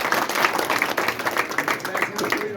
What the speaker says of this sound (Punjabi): ਜਰਾ ਇੱਕ ਦਫਾ ਤਾੜੀ ਮਾਰ ਦਿਓ